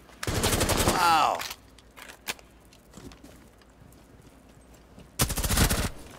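Bursts of automatic gunfire in the video game Rainbow Six Siege, a loud rapid volley at the start and another near the end, with a few scattered single shots and quiet shuffling between them.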